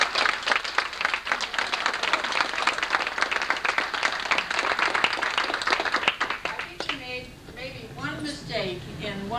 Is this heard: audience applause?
yes